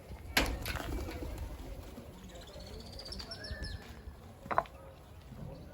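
Tumbler pigeons fly outdoors with faint cooing and a few chirps at a distance, plus a couple of sharp claps, over a quiet, steady background.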